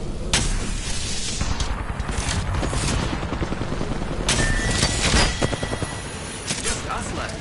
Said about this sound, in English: These guys are shooting at me